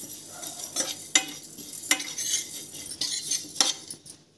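Fennel, coriander and black pepper dry roasting in a pan over low heat, irregular scraping and rattling strokes of a spoon stirring the spices, with light clinks between them.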